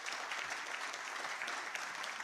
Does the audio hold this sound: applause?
yes